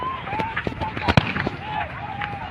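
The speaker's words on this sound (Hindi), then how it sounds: "हमारे ऊपर फायरिंग कर रहे हैं" Sharp popping gunshot-like bangs crack out irregularly amid shouting voices and crowd commotion, one louder report standing out near the middle.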